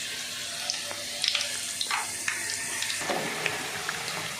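Banana flower vadas fry in hot oil, a steady, close sizzle and hiss with scattered small pops and crackles throughout, and no talking.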